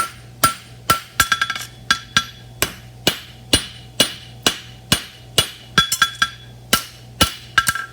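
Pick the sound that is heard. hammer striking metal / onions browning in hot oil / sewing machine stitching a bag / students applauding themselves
hammer striking metal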